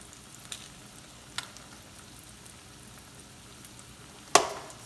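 An egg fries quietly in a cast iron skillet, giving a faint, steady sizzle with a few soft ticks, and a sharp metallic clank near the end.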